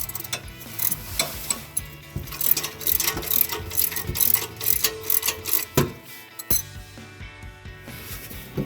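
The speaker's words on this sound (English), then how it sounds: "Now we know we got to loosen this clamp quite a bit more." Ratchet wrench clicking steadily while loosening the axle-back exhaust clamp on a 2011-2014 Ford Mustang V6 with a C&L Sport exhaust, close and fairly loud, with rapid pawl ticks in bursts and a brief pause near the end.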